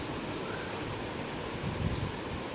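Glasses of water are poured into soaked rice in a cooking pot for chana pulao, a steady, close-up gush of water lasting throughout.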